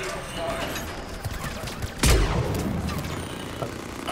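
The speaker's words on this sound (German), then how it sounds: "Der Schuss ging ins Leere." Gunfire in the sci-fi shooter Mass Effect 3, a single sharp shot bursting out midway over a dense bed of game noise and effects, with someone talking around it.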